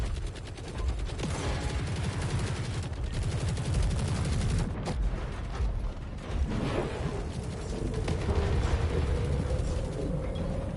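Special weapon strike in the video game War Robots: Frontiers, a loud, dense barrage of gunfire and explosive blasts rolling on without a break for about eleven seconds, with mechanical clatter mixed in.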